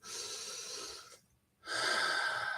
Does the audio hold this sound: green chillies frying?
no